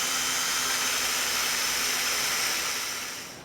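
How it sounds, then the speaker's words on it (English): A drill fitted with a sharpening stone grinds a lawn mower blade clamped in a vise, giving a loud, steady whirring hiss that fades out at the end. "now we have the sharpener inside the drill"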